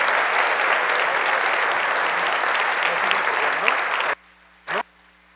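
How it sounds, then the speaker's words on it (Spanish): Sustained audience applause at a church service for the children and their director, a dense loud wash of clapping that cuts off abruptly, followed by a short faint sliding tone. "les pido un aplauso para ellos y para su directora"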